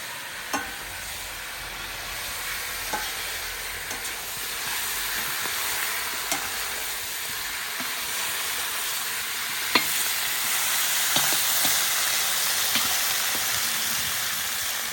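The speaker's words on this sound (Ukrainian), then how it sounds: "І на максимальному вогні обжарюємо." Meat searing over maximum heat in a cauldron for Hungarian bograch, with a steady loud sizzle and hiss throughout and occasional scrapes and clicks as it is stirred, no voices.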